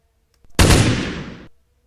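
A single loud gunshot in a video game under development, with a sharp attack and a blast that decays for about a second, standing alone with no talk.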